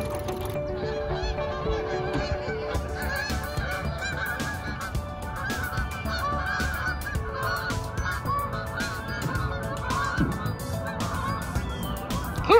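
Many ducks honk and call repeatedly from nearby in fog, a dense overlapping chorus of nasal squawks with no talking.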